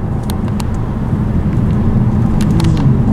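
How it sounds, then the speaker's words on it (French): A Peugeot 508 accelerating on the road, heard from inside as a loud steady low engine and road rumble with a few brief higher clicks and ticks, no talking. "j'accélère là, volontairement."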